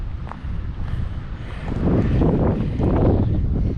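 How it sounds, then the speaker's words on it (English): Wind blows outdoors around a Heritage Glen Lite 312QBUD travel trailer with its awning extended, a steady low rumble against the microphone that grows louder and fuller about halfway through, with no voices. "You probably hear the wind."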